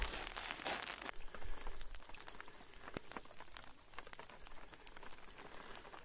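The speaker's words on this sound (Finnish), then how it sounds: "se rupesikin vettä tuossa ripsottelee" Light rain patters steadily on a camp by a lake during packing up. The drops fall as a dense, even hiss with scattered close taps, and nobody speaks.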